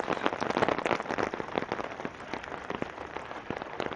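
Steady rain pattering on surfaces during an outdoor walk in Regina, close and continuous with scattered sharper drops, no voices.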